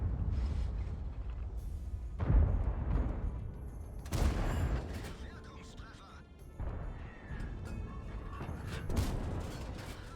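Tank cannon fire in World of Tanks from the KPz 3 Projekt 07HK: several heavy booming shots and crashes, at around 2.4, 4.2 and 9 seconds, over a constant low engine rumble, with someone talking throughout.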